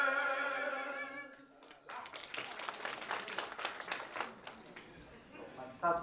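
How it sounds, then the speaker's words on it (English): An audience applauds steadily after a song at a social cohesion dialogue event in South Africa, the clapping rising after a sustained sung note fades and continuing as a dense, moderate wash with some voices mixed in. "Another round of applause there."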